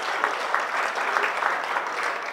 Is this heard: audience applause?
yes